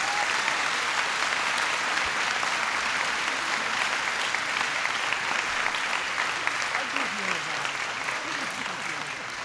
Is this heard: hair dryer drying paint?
no